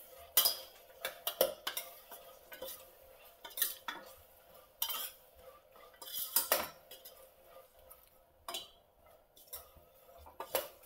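Guar beans and other ingredients being mixed in a bowl with a spoon, irregular close clinks and scrapes of metal on the dish with quiet pauses between.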